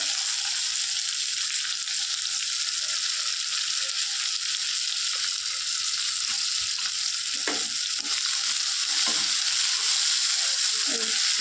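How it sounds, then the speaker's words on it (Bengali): Green chili and onion hit hot oil for a shrimp and taro-stolon dish, giving a bright, continuous sizzle up close. A few clinks and stirring knocks surface near the end, with no clear talking. "কাঁচা লঙ্কাটা দিয়ে দিলাম পেঁয়াজটা দিয়ে দিলাম তেলের মধ্যে"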